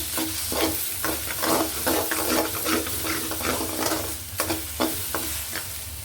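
Eggs frying and being stirred in a pan with a little salt and turmeric for bread upma: steady close sizzling with repeated scraping stirs and soft knocks, no speech.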